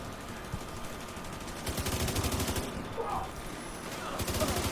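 Rapid automatic gunfire from The Division 2 rattles in steady bursts, fairly close, over ambient game noise, with a voice talking faintly.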